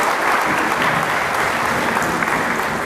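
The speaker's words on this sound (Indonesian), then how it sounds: "Kau tepuk tangan untuk Tuhan." A church congregation claps together in steady, dense applause that carries evenly throughout without a break.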